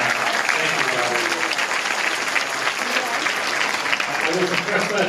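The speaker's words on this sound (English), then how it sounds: "please give a huge round of applause to Robert Knapp" An audience claps for MC Robert Knapp, a dense and even round of applause filling the room at close range, steady throughout with no break.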